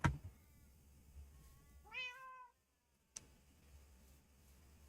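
A tamed black cat in Minecraft gives a single clear rising-and-falling meow near the middle, set against a faint ambient hum with a couple of soft clicks around it.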